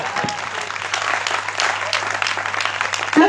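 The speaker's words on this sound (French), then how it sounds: "s'il y a quelqu'un ce soir, acclame le Seigneur très très fort." A church congregation bursts into loud, sustained applause to acclaim the Lord, dense clapping filling the whole moment with a low hum beneath.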